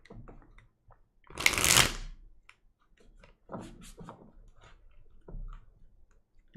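A deck of tarot cards riffled once in a loud, close burst, followed by softer shuffling and handling rustles.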